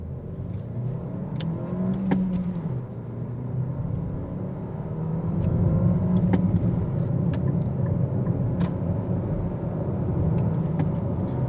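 A 2025 Nissan Qashqai with a 140hp engine and manual gearbox accelerates from 0 to 100 on a slightly downhill road, its engine rumble building steadily from inside the cabin.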